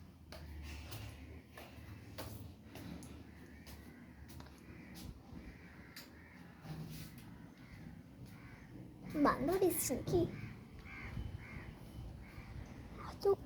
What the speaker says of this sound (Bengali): এত কাক